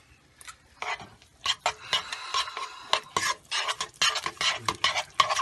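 Eggs being stirred into choux pastry dough in a bowl, heard as quick scraping and slapping strokes of a utensil, irregular and close, with short pauses between bursts of mixing.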